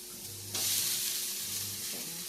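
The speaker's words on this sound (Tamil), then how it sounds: "இப்போ கூட வந்துட்டு வெங்காயம் தக்காளியை போட்டு வதக்கிக்க போகிறோம்" Beetroot, onion and tomato sautéing in a pan for chutney; a quiet low sizzle jumps to a brighter, louder frying hiss partway through and stays steady to the end.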